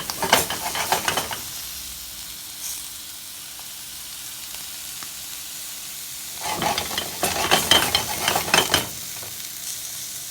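Turkey testicle stew sizzling and frying in a pan, with loud bursts of crackling sizzle at the start and again near the end, and a quieter steady simmer in between.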